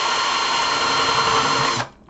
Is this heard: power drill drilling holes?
yes